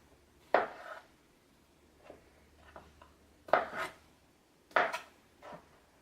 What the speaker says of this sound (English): Just gonna cut them to cubes.